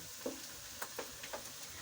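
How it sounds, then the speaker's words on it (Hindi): Chopped green chili and garlic cloves frying in a pan, a faint steady sizzle with a few soft stirring clicks and scrapes, no voices. "अब डाल के हम इनको फ्राई कर लेते हैं।"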